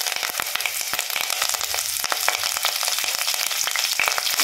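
Cumin seeds and curry leaves sizzle in hot oil with a dense, steady crackle and sharp pops, close and continuous with no voices.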